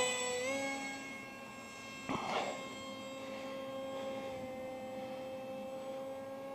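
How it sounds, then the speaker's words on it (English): A DYS 2208 brushless drone motor runs on test with a 6x4 APC propeller, a 3-cell battery and a 40 amp speed controller. It gives a steady, tonal whine throughout, with a brief rougher surge about two seconds in. "So here we go with the DYS"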